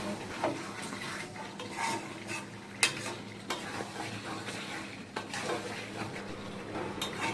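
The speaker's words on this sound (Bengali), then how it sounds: "তারপর আমাদের ভালো করে কষিয়ে নিতে হবে।" Lemon chicken cooking in a pan, stirred steadily with a utensil that scrapes and clinks against the metal over a soft continuous sizzle. One sharper knock stands out midway.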